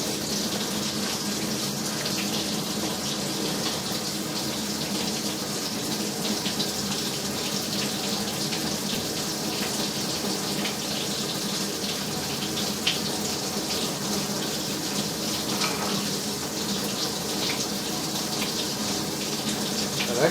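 Water trickles and runs steadily into a concrete building foundation near the footer, a constant close splashing flow without pauses or voices.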